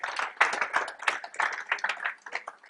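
A church congregation's scattered hands clap in quick, uneven bursts, moderately close, without talk.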